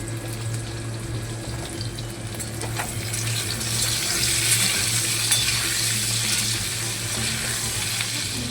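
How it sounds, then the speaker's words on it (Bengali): Whole spices crackle and sizzle in hot oil in a kadai, a steady frying hiss that grows brighter and busier halfway through, with a faint hum underneath and no talking. "এরকম কড়াইয়ে তেল দিয়ে দিয়েছি, 5 ফোড়নও দিয়ে দিয়েছি"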